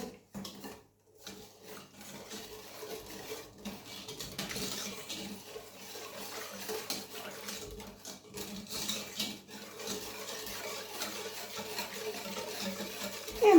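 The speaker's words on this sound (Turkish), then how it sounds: "Nişastayı, şekeri, kremayı bir karıştırıyorum." A whisk scrapes and swishes steadily around a bowl of starch, sugar and cream, a soft continuous rubbing with faint clinks, close by and fairly quiet, with no talking.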